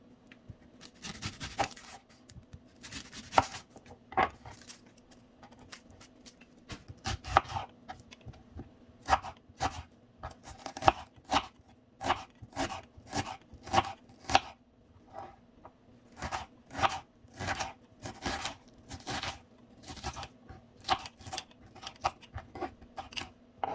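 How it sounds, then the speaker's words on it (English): Raw onion being cut with a knife for cooking alongside zucchini, heard as a long run of crisp, irregular chopping and slicing strokes close by, with soft rustling between cuts and no talking. "So I will cut some of the onion and cook it with the zucchini."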